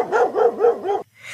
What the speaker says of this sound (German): Bis sich sämtliche Hunde Guilins, wahrscheinlich unter der Leitung des Schweinemenschen Yu Guiweng aus der Reise nach Westen, vor meinem Zimmerfenster versammelten